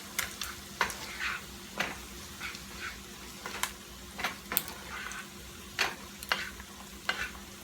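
Mixed onions fry quietly in a pan for a breakfast hash, with a faint sizzle broken by a dozen or so sharp scraping stirs at an uneven rhythm.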